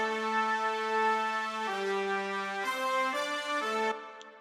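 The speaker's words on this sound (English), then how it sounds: "It's the Victory brass in XS3." Victory brass synth preset in XS3 plays a basic sustained melody pattern, a few long held notes stepping in pitch, bright and buzzy, alone and fairly loud before cutting off.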